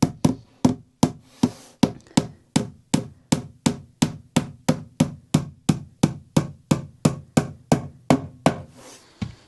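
Panel pins hammered into a wooden drawer box: a steady run of about twenty-five sharp, close knocks at an even pace, each ringing briefly, with no talking.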